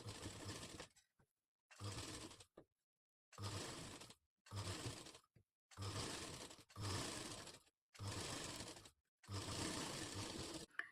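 A sewing machine stitching a katori blouse runs in repeated bursts of about a second each, close and steady, with short silent pauses between runs.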